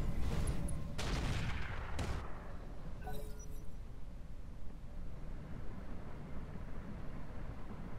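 An artillery barrage in the mech game Roguetech strikes a vehicle: a few sharp, loud blasts land in the first two seconds, then a crackle follows as the noise fades into a steady rumbling background.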